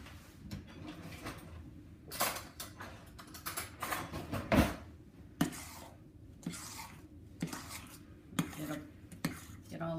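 A spoon scrapes and clinks against the bottom of a bowl to free melted chocolate, in irregular gentle strokes with occasional sharper metallic taps.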